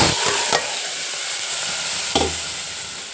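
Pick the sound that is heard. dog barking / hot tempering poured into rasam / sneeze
hot tempering poured into rasam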